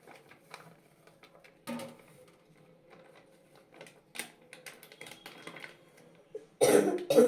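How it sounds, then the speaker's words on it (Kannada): A single harsh, lingering chesty cough near the end, loud and close, after a stretch of quiet clicking and light tapping sounds. "ಕೆಮ್ಮು ಸರಿನೇ ಹೋಗಿಲ್ಲ"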